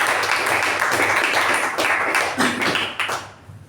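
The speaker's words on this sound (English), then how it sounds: "But very well done, and a big round of applause for Ajay's confidence." A room of Toastmasters meeting attendees claps together, a dense steady wash of applause that holds for several seconds before thinning and fading out at the end.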